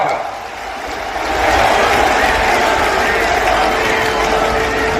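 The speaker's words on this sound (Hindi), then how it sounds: "तालियां बजती रहे, जोरदार तालियों से स्वागत।" A large crowd at the Kalki Dham temple foundation-stone ceremony applauds in a dense, steady wash of clapping that swells after the first second and holds loud to the end.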